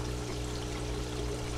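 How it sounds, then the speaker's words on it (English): Water pouring steadily into the drain of an aquaponics grow bed with a bell siphon, a continuous broadband rush with a low steady hum underneath, close and unbroken throughout. "The water is constantly flowing to the drain."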